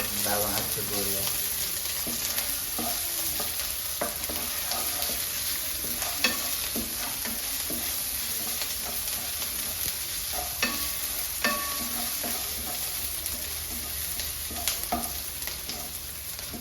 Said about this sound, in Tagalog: ginisa yung bawang at sibuyas